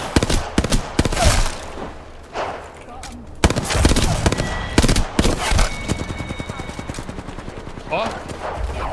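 Gunfire in the battle-royale video game Apex Legends, with loud single shots and rapid automatic bursts in close, irregular volleys, mixed with game effects and players talking over the action.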